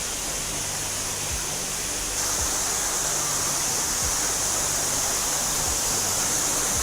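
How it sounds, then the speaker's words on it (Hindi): The Shrashamli waterfall roars as a steady, dense wash of falling water, loud and unbroken throughout, with no voices above it. "एटा हैला श्राचामलीर वाटरफॉल"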